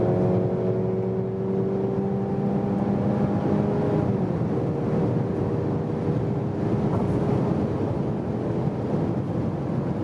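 A Mercedes C300 4MATIC accelerates hard on a German Autobahn, heard from inside as a continuous roar of engine, road and wind, with engine tones climbing and then dropping at a gear change, no voices.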